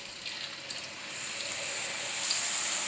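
Single potato chips fried in hot oil over a medium-high gas flame, a steady dense sizzle and crackle that gradually grows louder, close and continuous, with no talking.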